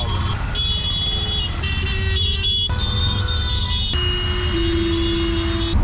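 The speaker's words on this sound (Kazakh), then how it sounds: "Барлығы бір-біріне сигнал береді." Car horns honking in busy Delhi street traffic, heard from a tuk-tuk amid the steady roar of engines, with overlapping toots and longer blasts, one sustained horn near the end, loud and continuous.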